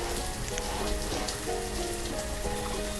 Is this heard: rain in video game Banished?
yes